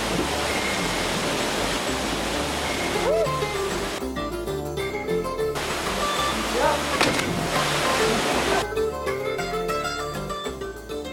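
A waterfall pours into pools in Costa Rica, a loud, unbroken broadband rush filling the whole stretch, with a faint tonal layer drifting in and out on top.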